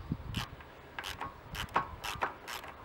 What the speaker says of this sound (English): Remove the bolt, off comes the Kickstart.